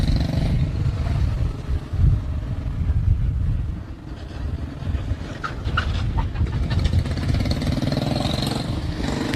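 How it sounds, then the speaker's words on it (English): A sprint car at a POWRi Cactus Cup Nationals dirt race refires after spinning in turn two, its engine a loud, steady low rumble that stays under caution with a few sharper bursts mid-way. "Kylie Glick able to get that car refired."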